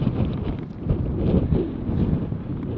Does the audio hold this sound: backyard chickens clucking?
no